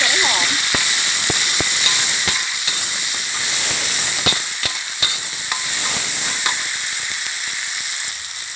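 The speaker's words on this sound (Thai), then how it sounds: "ผัดด้วยกันกับพริกแกง" Red curry paste with torn kaffir lime leaves stir-fries in oil, giving a loud, continuous sizzling hiss close by, broken by sharp spatula clacks against the pan.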